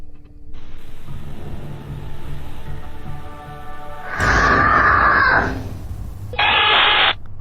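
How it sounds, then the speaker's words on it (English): A loud, piercing scream on a home nanny-cam recording in a toddler's room rises above a steady background hum, lasts about a second, then a second shrill burst follows shortly after. "Then a loud scream pierces the air, sending the little girl running for mommy"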